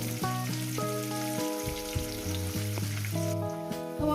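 Potato pieces sizzle steadily in hot oil in a home kitchen, a continuous crackling fry with background musical tones running underneath, no voices.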